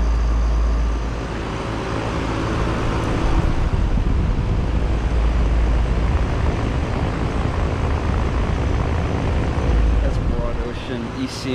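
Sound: Lennox Merit ML17XC1 air conditioner running

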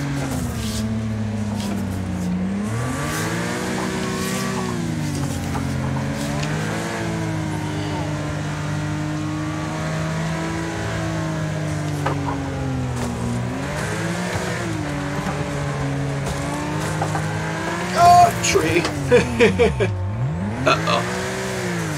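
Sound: race car engine and crash into tree in Wreckfest video game

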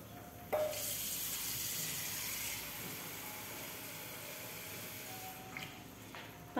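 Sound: water being poured into a pot for jaulo

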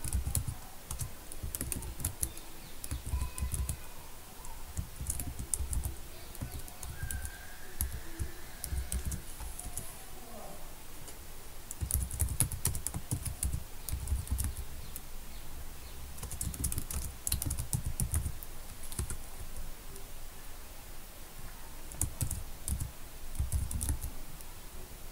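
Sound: typing code on a computer keyboard

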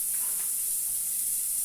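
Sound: garlic and onion frying in a pan

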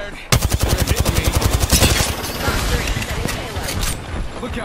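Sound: gunfire in Apex Legends video game

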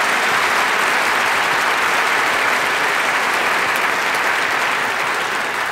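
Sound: audience applause for the bet contestant

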